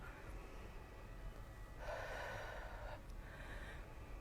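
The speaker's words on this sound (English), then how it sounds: "Exhale, deep breath." Faint, soft breaths during a yoga class, with a longer airy exhale in the middle and a shorter one toward the end, heard close in a quiet room.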